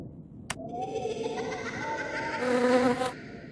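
A bee buzzes in the Wii game I Spy: Spooky Mansion, starting with a click and followed by a wavering, tonal drone that swells louder and then cuts off after about three seconds.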